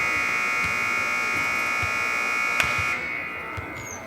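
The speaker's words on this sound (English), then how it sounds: "That was at the buzzer. The last shot made it at the buzzer." A loud, steady electronic buzzer sounds continuously at the end of a round in a men's college three-point shooting competition in a gym, then cuts out near the end.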